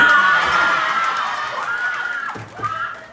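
A loud crowd at a pageant cheers, claps and shouts together, with high excited voices and whoops fading slightly, then a brief surge near the end.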